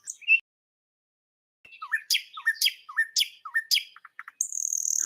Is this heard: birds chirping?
yes